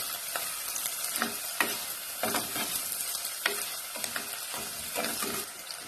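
Chopped garlic sizzles steadily in hot oil for a Tamil anchovy fish curry. A spoon stirs through it with a regular scraping rhythm, close and continuous.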